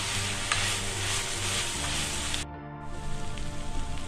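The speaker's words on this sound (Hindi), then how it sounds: "हाई फ्लेम पे ही 2 मिनट के लिए पकाएंगे ताकि सारे मसाले अच्छे से मिक्स हो जाए।" Chicken filling frying in a pan over a high flame, giving a continuous close sizzle with stirring scrapes; the hiss briefly softens before picking back up.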